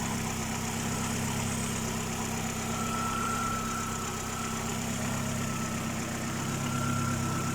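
A Proton Gen2 car engine idling on LPG, a steady low hum with a constant tone, close and even for the whole stretch, with no voices.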